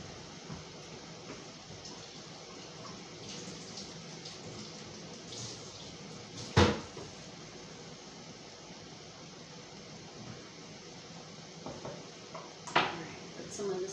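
Tap water runs steadily while vegetables are rinsed in a home kitchen, a soft continuous wash with a few sharp clinks of dishes or a pan against the sink.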